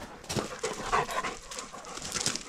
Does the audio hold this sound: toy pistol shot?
no